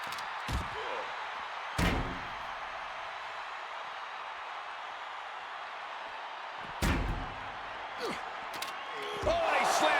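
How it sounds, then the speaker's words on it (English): In the WWE 2K25 video game, a wrestler is slammed face-first into a ringside barricade, producing sharp heavy impact thuds scattered across the match amid steady arena crowd noise. "he slammed his face right into the barricade"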